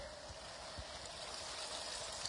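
Strong floodwater from a typhoon rushes in a steady, broadband roar across rural fields, a continuous close wash of flowing water with faint low gurgles and no talking.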